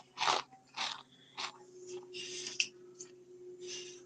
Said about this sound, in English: I'm munching on some Cheetos.